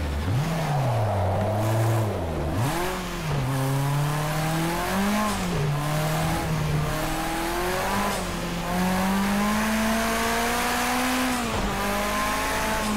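A racing car engine in the Project Cars video game revs and shifts through gears, pitch rising and dropping repeatedly with faint tire squeal, loud and steady throughout without talk.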